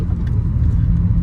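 A 2008 Lexus IS250 engine rumbling low and steady from inside the cabin as the car is driven, a brief continuous hum with no voices.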